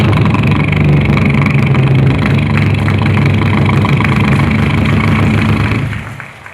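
A mimicry performer at a school arts festival uses his voice to copy a boat engine, a loud, steady low chugging drone that holds evenly and then fades out at the end.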